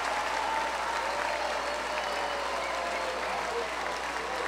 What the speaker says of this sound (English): And the fans applauding and standing behind the Bulls dugout as Gimenez comes off of the field.